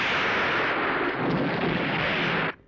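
Sustained burst of gunfire in a Hindi action movie, a loud dense roar of rapid shots that holds steady for about two and a half seconds before cutting off abruptly.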